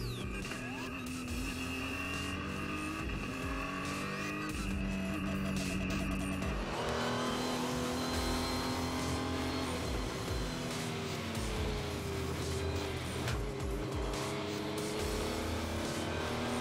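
Renault Sport Trophy race cars at Spa, engines droning loud and steady with shifting pitch as they pass, a continuous racing roar with some tire noise throughout.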